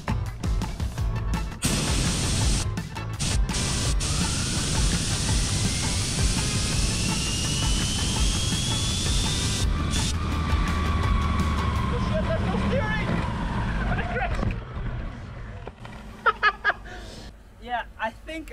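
A homemade compressed-air turbine skateboard spins up outdoors with a loud rising hiss and whine that climbs in pitch, then falls away and fades, with a voice and scattered clatter near the end.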